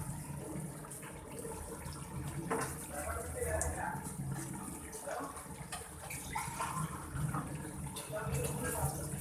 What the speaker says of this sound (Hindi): पानी डाल देंगे इसमें कि हमारा गोश्त जो है वो गल जाए